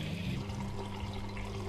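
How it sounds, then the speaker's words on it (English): Filtered tap water runs into a cooking pot, a continuous close gush with a bright splashing hiss and a low rumble, steady for the whole moment. "First thing we're going to do is fill up a pot with water."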